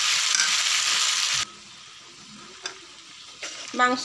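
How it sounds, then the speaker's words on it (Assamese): Mutton frying in a pan for curry, a bright loud sizzle for over a second that then drops to a quieter crackle with stirring clinks, followed by a short burst of vocal sound near the end. "মাংসখিনি একদম সুদাকৈ ভাজ খাই যোৱা"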